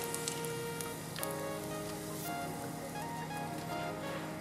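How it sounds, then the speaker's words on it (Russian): Rice paper chips frying in hot oil give a quiet, steady sizzle with faint crackling pops throughout, heard alone without speech. "Обжариваем остальные чипсики."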